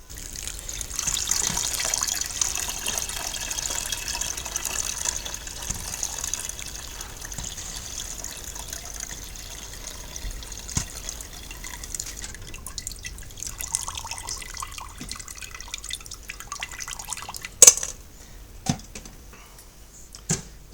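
Hot water poured over spent grain to rinse it while brewing a chocolate and vanilla stout: a steady liquid trickle and dripping, fading to scattered drips with a few sharp clinks near the end.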